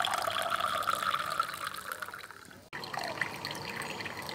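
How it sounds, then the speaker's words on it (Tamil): Water poured into a glass during a pineapple-growing session at home, a steady close trickle for over two seconds, then a brief pause and continued splashing and dribbling. "ஃபஸ்ட்டு நம்ம ஒரு கிளாஸில் வந்துட்டு தண்ணி ஊற்றிக்கலாம்."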